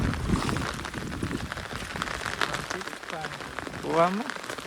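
Steady rain in a Botad village farmyard keeps up a close, even patter and hiss, while a person speaks briefly over it toward the end.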